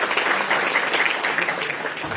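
A hall audience at a thalassemia awareness event applauds the family welfare minister with brisk, steady clapping from many hands. The applause is fairly loud and continuous, then thins slightly toward the end.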